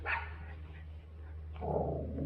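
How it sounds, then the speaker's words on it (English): A dog named Tilly at a campground in Fall Creek Falls State Park, Tennessee, gives a short bark at the start, followed by a softer second bark or whimper near the end, faint and fairly close. "Tilly, no barking."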